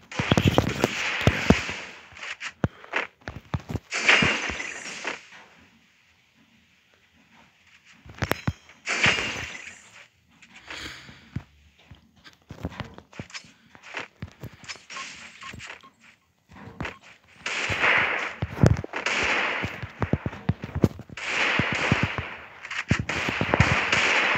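Gunfire from the Free Fire video game, sharp bursts of shots in clusters separated by short pauses, fairly loud throughout with no talking.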